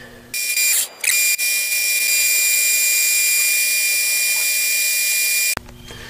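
Metal lathe turning a D1-5 backing plate for an 8-inch chuck: a loud, steady, high-pitched machining whine with hiss, running continuously for several seconds before cutting off abruptly.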